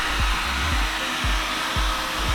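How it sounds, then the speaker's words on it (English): Heat gun running on a low temperature setting to dry airbrushed paint on a Nissan S15 Silvia rocker cover, a steady close blower whoosh with a regular low pulsing. "Now I had the heat gun on really low temp."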